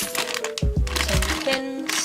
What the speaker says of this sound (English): Okay, so I open the box